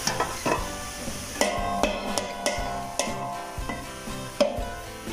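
Thai khanom tian filling is stirred and mixed in a pan, with repeated clacking spoon strikes and scrapes over a steady background hum, no voices.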